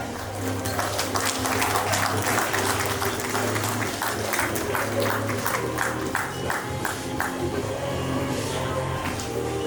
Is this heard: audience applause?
yes